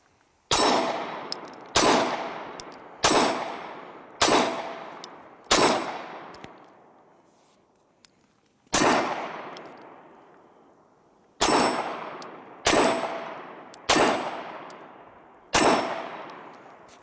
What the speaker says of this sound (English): We'll see how it shoots here in the cold, but it's been a very good pistol.